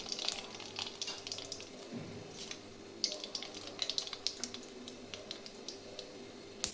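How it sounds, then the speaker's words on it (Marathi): Mustard seeds crackle in hot oil in a kadai, giving scattered small pops and sputters over a soft steady sizzle, fairly quiet and close. "तेल गरम झाले, मोहरी टाकायचे"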